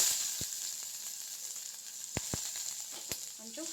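Onion frying in ghee in a pan gives a continuous close sizzle, broken by a few sharp clicks of a spoon against the metal.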